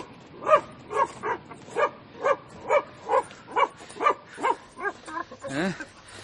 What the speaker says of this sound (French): Ah, il est attaché, ce chien.